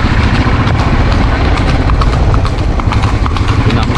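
A trained horse's hooves clip-clop at a quick steady pace on a tarred road, loud and close, with a low engine hum beneath and voices talking over it.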